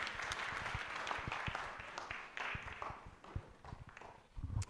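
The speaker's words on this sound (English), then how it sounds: "You can give him a round of applause again." Audience applause at a national youth SDGs pre-conference in Kenya, a dense wash of clapping with sharp individual claps and a few louder bursts near the end.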